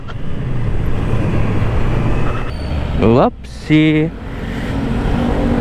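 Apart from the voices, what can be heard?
road traffic noise while driving home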